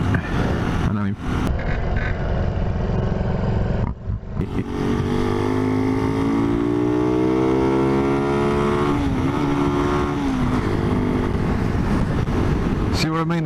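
A Skymax motorcycle engine drones up close while riding, its pitch rising and falling through gear changes, with someone talking over it and brief wind buffeting.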